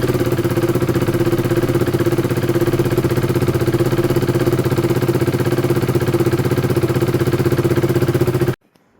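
A KTM 390 motorcycle engine idles loud and steady at close range for about eight and a half seconds, then cuts off abruptly into silence.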